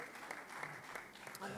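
An audience at the West Web Festival in Brittany claps, a short burst of steady applause, moderately loud and fairly close, with speech carrying over it.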